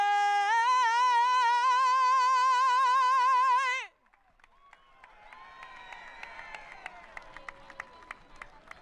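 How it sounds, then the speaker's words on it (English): A speedway grandstand crowd at North Wilkesboro Speedway bursts into scattered cheers and applause as a sung anthem ends, the sustained tones cutting off and giving way to a rising, distant roar with sharp claps. "This crowd is certainly energized and ready to go racing."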